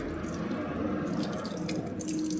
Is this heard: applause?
no